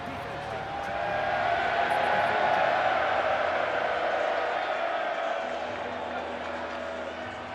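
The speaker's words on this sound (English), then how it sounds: "This crowd into it now." Stadium crowd in the football video game Madden NFL 25 roars and cheers in a broad, steady swell that builds, then slowly eases off, with a commentator's voice faintly under it.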